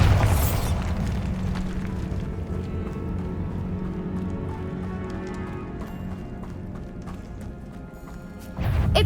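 A Bombarda explosion spell in the Hogwarts Legacy video game bursts with a loud boom at the start, then a rumbling low roar of debris and game sound that fades, before another sharp blast near the end.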